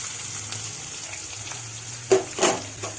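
Onion and green chillies hiss in a pan with fenugreek seeds and dried red chillies for bitter gourd curry, a steady close sizzle ending with a couple of sharp utensil clatters.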